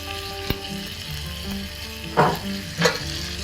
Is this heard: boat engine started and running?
no